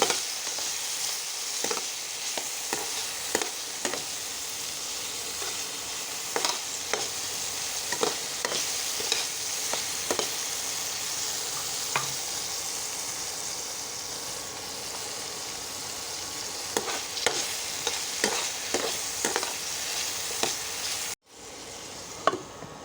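Steady frying sizzle fills a pan while a spatula stirs and scrapes in regular strokes, close and continuous, as ingredients are fried before paneer is added; the sound cuts off abruptly near the end.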